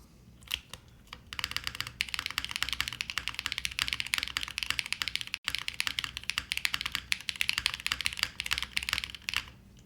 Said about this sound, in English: It's a nice sounding keyboard.